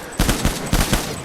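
Gunfire in the video game Death Stranding: a few short bursts of shots at fairly even intervals, close and punchy over a steady background hum.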